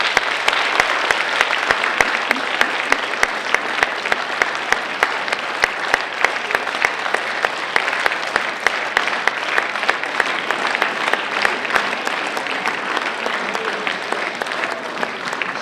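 An audience applauds at a concert by the Mordovia State Chamber Orchestra, dense sustained clapping filling the hall at steady loudness for over fifteen seconds.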